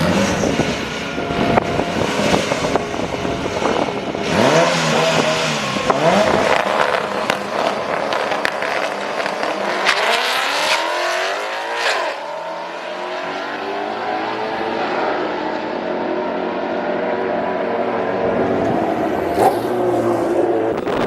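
A car called the Pink Widow, out for 9-second passes, revs hard through the gears, its engine note rising and falling in repeated loud sweeps close by, with a few sharp peaks near the end.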